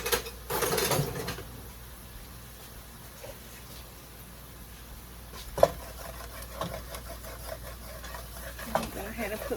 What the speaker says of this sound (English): I'm going to get a wooden spoon so I can get all the goodness from the bottom of the pan.